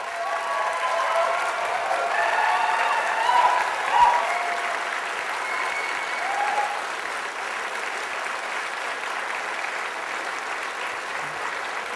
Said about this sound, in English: I want you guys to stand up and give them a round of applause